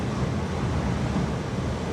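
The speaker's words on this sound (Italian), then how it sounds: "Le onde dell'Atlantico si infrangono con forza sulle rocce" Atlantic waves crash against the granite cliffs at Land's End, a steady, dense roar of surf that stays loud and continuous throughout, mixed with wind noise and with no voices.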